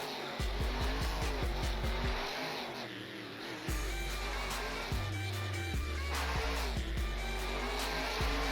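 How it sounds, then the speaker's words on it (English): Race cars roar past in a night event in Panama City, engines droning steadily at a distance with shifting pitch and a few rising passes, no voices over them. "Our next race of the night, we've got Ironman Tony Oaks taking on MJ Solario El Toro Loco here in Panama City."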